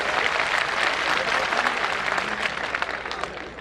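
Applause from a conference audience, broad and steady throughout with a busy crowd texture, thinning slightly toward the end.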